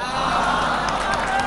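An audience at a kavi sammelan poetry gathering claps and cheers loudly to welcome poet Aman Akshar to the stage. The dense, sustained applause stays close and steady through the short moment, mixed with scattered whoops.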